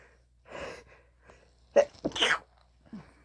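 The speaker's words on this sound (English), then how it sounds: "I'm going to sneeze" A sharp, close sneeze bursts out after a few quiet breaths and gasps, followed by a faint exhale.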